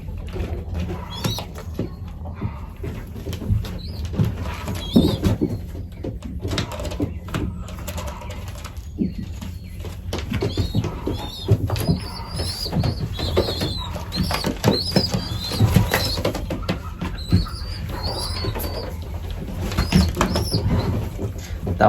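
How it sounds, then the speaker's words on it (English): Racing pigeons in a loft, with soft cooing and bursts of wing flapping and scrabbling feet over a busy close background, fairly loud and continuous for around twenty seconds. "That one that just ran away might be a good bird."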